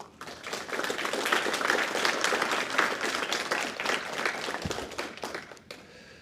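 An audience applauding three individuals at a welcome address for a clinical research internship, a full wash of clapping hands that holds steady for several seconds and then thins out and fades.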